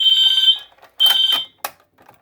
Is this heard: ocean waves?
no